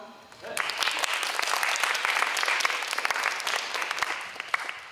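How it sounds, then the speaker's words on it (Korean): Audience applause at a church worship gathering after a mission report, a close, lively burst of dense clapping that starts abruptly and continues steadily for several seconds. "박수"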